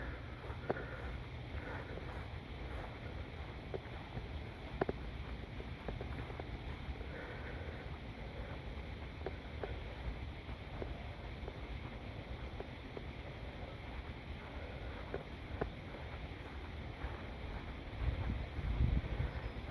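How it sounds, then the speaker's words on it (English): A steady wash of rushing water from a small creek dam spillway hisses in the background, with wind buffeting the microphone and no talking. "And you can hear the waterfall. There's a little dam."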